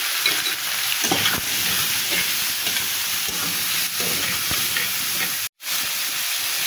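Turmeric and chili powder frying in a pan with small tengra fish curry and bottle gourd, a continuous close sizzle with scraping stirs and knocks, a brief dropout near the end.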